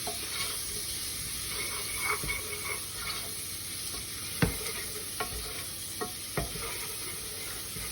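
Onions sweating in fat in a pan, a steady soft sizzle with occasional scraping clicks from stirring, moderately close and with no voices.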